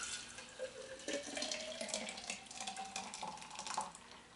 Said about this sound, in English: So I'm going to pour this in here.